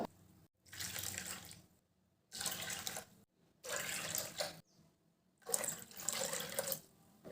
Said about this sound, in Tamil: 5 கப் அளவு தண்ணி சேர்க்கணும்.